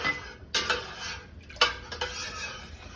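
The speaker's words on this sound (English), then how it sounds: "here goes the citric acid in there. Just stir that around just for a minute" A utensil stirs citric acid into milk in a pot, giving a few distinct close clinks and scrapes against the pot over low background noise, no talk.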